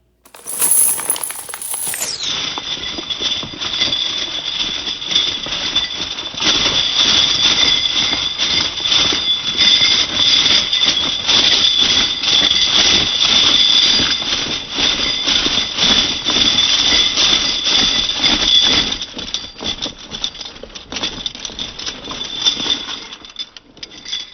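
A long, steady metallic rush of silver quarters pouring out in a continuous cascade, bright and dense, drawn out and slowed, with no voices.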